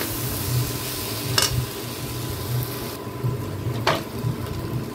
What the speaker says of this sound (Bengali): এখন এটাকেও খুব ভালো করে মিশিয়ে নেব আর একটু কষিয়ে নেব।